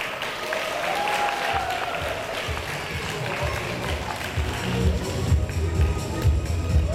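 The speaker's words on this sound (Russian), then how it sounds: "Мисс Очарование, друзья, ваши аплодисменты." Audience applause at an award ceremony for the Pearl of the Sea 2018 pageant in Anapa, moderate crowd clapping sustained throughout, with music and a voice faintly underneath.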